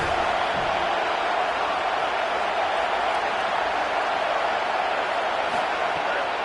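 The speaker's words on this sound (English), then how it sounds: "The roar of the crowd trying to fuel this defense to keep them pinned in their own end" A steady, loud crowd roar fills a college football video game simulation of San Jose State versus USC, a continuous wash of stadium noise without clear breaks.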